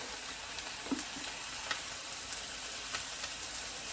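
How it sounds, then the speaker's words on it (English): A chicken breast sears in a pan, giving a soft, steady sizzle broken by a few small pops and crackles, with no voices. "My chicken is searing."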